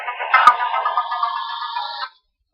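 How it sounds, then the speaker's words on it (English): Mobile phone ringtone going off, a loud bright electronic melody of sustained tones with a sharp tick near the start, playing for about two seconds before cutting off abruptly into silence. "Whoops, there goes my phone."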